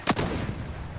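A single sharp sniper rifle crack in a shooter video game, loud and close, ringing out in a short decaying tail.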